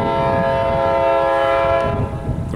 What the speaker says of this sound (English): Here comes the CP Casey Railroad.